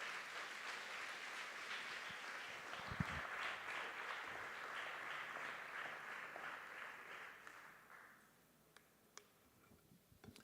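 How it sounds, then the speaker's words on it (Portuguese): A church congregation applauds during a worship service, a faint, distant wash of clapping that carries on for about eight seconds, then dies away to a quiet room with a few isolated taps. "Você pode aplaudir a Jesus"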